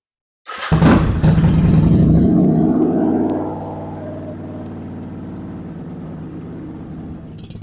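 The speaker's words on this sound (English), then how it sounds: "let's get the engine up to normal operating temperature" A Kawasaki Vulcan 750 motorcycle engine starts with a loud burst and revs briefly, then settles into a steady, lower idle that keeps running close by while warming up.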